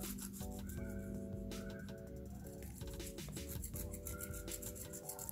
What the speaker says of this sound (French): J'attrape ma lime et je vais effectuer un mouvement de va-et-vient, comme ça, avec ma lime inclinée un peu vers le bas